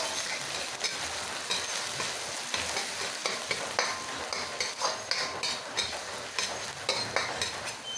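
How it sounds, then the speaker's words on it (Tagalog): Sliced garlic fries in a pan with a soft, steady sizzle, punctuated by light scrapes and taps of a utensil stirring, fairly quiet and close. "ilagay na natin ang hiniwang bawang."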